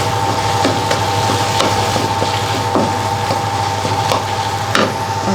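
Tomato and chili paste frying and being stirred in a pan for Thai nam prik ong, a steady close sizzle with a low hum beneath and repeated scraping stirs and knocks, no voices.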